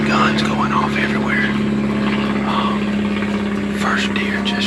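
A propeller plane drones steadily overhead during a Georgia deer hunt, a sustained engine hum with a person talking over it.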